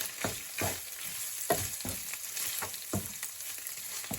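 Ground beef fries in a pan with a steady crackling sizzle, broken by sharper pops and scraping stirs every half second or so, close and fairly quiet with no voices.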